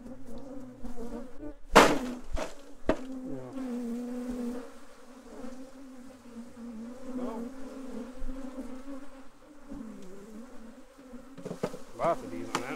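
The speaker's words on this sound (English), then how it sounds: "Lots of bees on that one." Honey bees swarm and buzz across a frame lifted from an overwintered Apimaye hive, a dense steady drone close to the microphone with a few sharp knocks and handling thumps of the frame.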